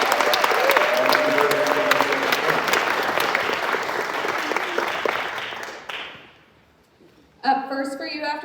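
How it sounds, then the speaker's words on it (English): Audience applauding musicians at a Mother's Day musical matinee: dense, sustained clapping with some crowd noise that fades out around six seconds, followed by a brief lull before a voice begins talking. "Would you give them one more round of applause"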